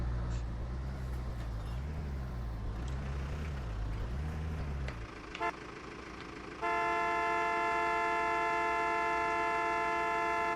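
Car horn honking in the Polish Car Driving game, a loud steady multi-tone blast starting partway through and holding to the end, after a rumbling engine drone and a brief earlier toot.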